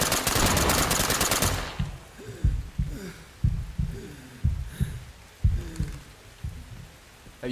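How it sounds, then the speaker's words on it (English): Gunfire in the tactical shooter Ready or Not: a heavy, continuous burst at the start, then a string of single thudding shots at uneven intervals that sound somewhat distant, with quieter stretches between them. "Someone's shooting."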